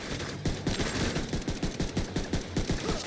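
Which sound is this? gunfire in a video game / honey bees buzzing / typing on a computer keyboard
gunfire in a video game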